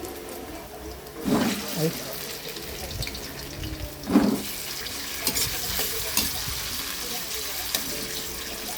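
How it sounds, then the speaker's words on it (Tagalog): Pancit canton noodles dropped into hot cooking oil in a home kitchen, giving a broad sizzling hiss with two louder bursts as they hit the pan, while someone talks over it. "At dahil mainit ng ating mantika, ilagay na natin siya dyan."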